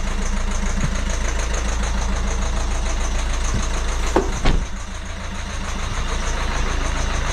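Citroën C4 Grand Picasso engine idling steadily at close range, a constant low rumble with a couple of brief knocks partway through, no talk.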